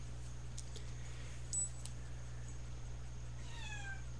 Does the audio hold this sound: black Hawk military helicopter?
no